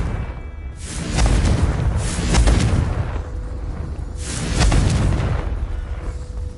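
Explosive Confringo spell blasts in a fantasy video game, three heavy booming bursts roughly a second and a half apart, each swelling loud and rumbling before fading.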